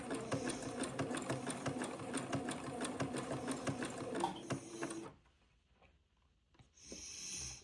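A sewing machine zigzag-stitches lace onto Swiss edging, a rapid even mechanical clatter close by that runs for about five seconds, stops, then briefly starts again.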